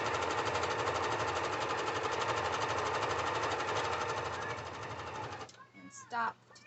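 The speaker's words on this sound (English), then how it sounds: "And then you're just going to sew." A sewing machine stitches the hem of a harvest apron in a fast, even mechanical rattle that runs close and loud for several seconds, then stops, followed by brief talking.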